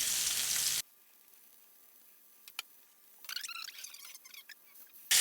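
Pork chops sear in a pan with a soft, low sizzle that swells into a livelier crackle with brief spits and pops toward the end, preceded by a short loud burst at the start.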